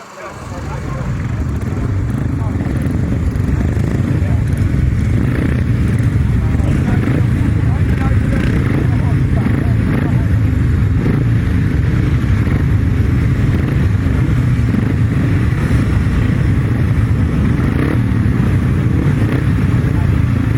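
Several grasstrack upright solo motorcycles idle and rev on the start line in a loud, continuous engine roar that holds for the whole stretch, with a voice speaking over it.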